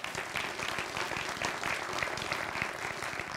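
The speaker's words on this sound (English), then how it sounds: "So let's give a round of applause for California" Convocation audience applause for California at a college gathering: a large hall full of steady, even clapping at constant loudness, with no talking over it.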